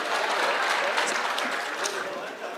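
A crowd at an outdoor security rally in Migori Town claps in sustained applause, a dense steady wash of clapping with some voices in the mix.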